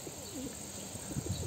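Soft cooing from pigeons or doves, a few gentle rising and falling calls over a faint background hum.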